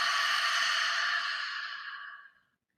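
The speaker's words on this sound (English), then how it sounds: "So breathing in, moving that belly outward, and then exhaling." A single slow, deep exhale, breathy and close, trails off to silence over about two and a half seconds.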